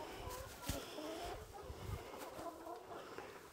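Hens cluck softly in short, uneven bursts over a low, muffled background rumble, faint and close by.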